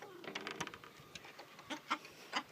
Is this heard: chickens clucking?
yes